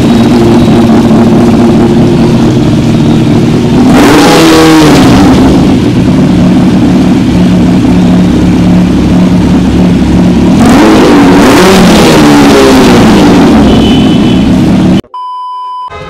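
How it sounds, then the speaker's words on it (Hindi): A Benelli 600i motorcycle engine idles steadily, then is revved hard twice in loud, close bursts, each rising and settling back to a throbbing idle, with a brief electronic beep at the end. "की लेते हैं तो बाइक को चालू कर दीजिए"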